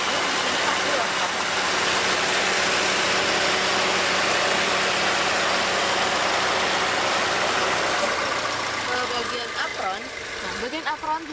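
A Toyota Avanza's 1300 cc engine idles in a steady, dense mechanical drone close by, continuous throughout, while someone talks over it.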